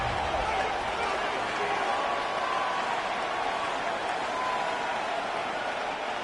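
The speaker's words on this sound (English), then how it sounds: "this crowd doing their best to make a lot of racket" Steady, dense roar of a stadium crowd at an Eagles at Cowboys football game in Madden 26, a loud continuous wash of noise with no clear breaks.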